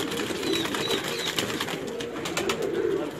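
Pigeons at a bird sale in Tonk, Rajasthan, including large red-spotted birds, coo softly and repeatedly over a steady, dense backdrop of birds and ambient noise, with no one speaking.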